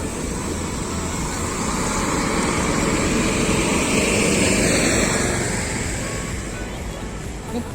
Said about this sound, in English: Oh, a big bus.